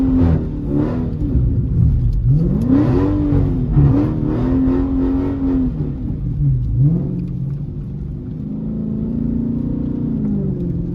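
A 392 car slides around a roundabout on wet, rainy roads. Its engine is loud and close, revving up and down in repeated surges before settling into a steadier drone, with nobody speaking.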